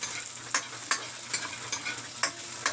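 Chop suey and chicken gizzards frying in a pan, a steady sizzle broken by regular scraping stirs, roughly one every half second, close and clear with no talking.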